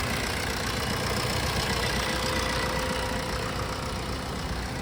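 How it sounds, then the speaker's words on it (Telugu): A 2017 Maruti Vitara Brezza ZDi Plus diesel engine idles with a steady, even mechanical drone, heard close and alone with no talk. "సైలెంట్ ఉంది ఇంజను"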